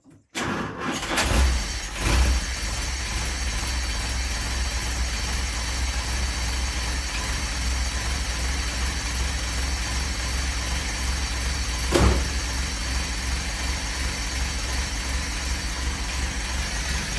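A Renault Monaquatre with a 6-volt electrical system cranks and catches, then settles into a steady, low, even idle that runs on close by with one brief bump partway through.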